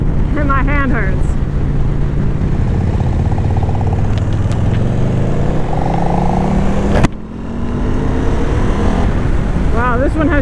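A KTM Super Duke GT motorcycle accelerates hard, its engine note rising through the revs under heavy wind rush, with a sudden break partway through before it climbs again. A rider talks over it.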